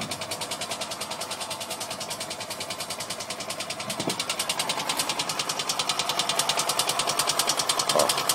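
A 1973 Harley-Davidson golf cart with a small 250cc engine idles close by, its rapid, even mechanical chugging steady and loud throughout, with a couple of faint knocks and no talk.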